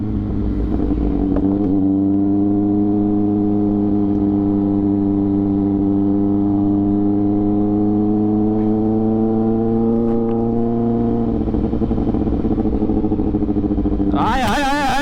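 A Kawasaki Ninja ZX-6R motorcycle engine runs loud and steady for a long stretch, its pitch holding nearly level before a sharp burst of noise at the end.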